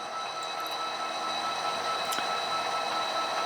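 A small model train runs with a continuous whirring, rattling hum, level and close, plus a brief faint squeal partway through.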